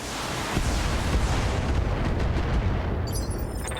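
Mech weapons in Battletech pound a base with a continuous, heavy rumbling barrage of blasts and booms, loud and dense throughout with no talk.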